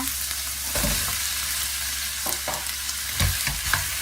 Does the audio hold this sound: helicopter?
no